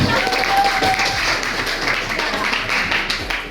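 Classroom students clapping during an anthropology debate lesson, a loud, dense burst of hands that tapers slightly toward the end, with some voices mixed in.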